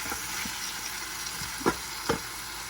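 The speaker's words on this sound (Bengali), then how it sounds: "মশলাটার মধ্যে তরকারিটা কষাইতেছি, মাছ আর আলু" A red snapper fish head and potatoes sauté in spices, giving a steady, close frying sizzle broken by two scraping stirs of the spoon, with no talking.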